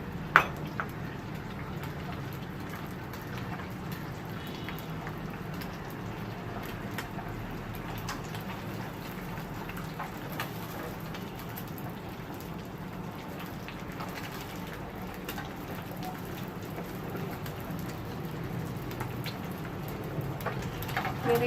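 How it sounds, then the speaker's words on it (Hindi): An egg fries in a pan beside shami kababs, giving a steady close crackling sizzle that patters like rain throughout, with no talking. "यहाँ मैं अंडा फ्राई कर लूँगी"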